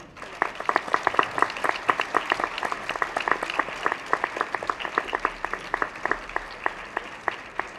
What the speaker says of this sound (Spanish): pido un enorme aplauso para ella.